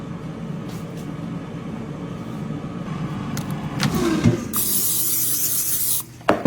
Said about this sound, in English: we're going to open it and we're going to spray it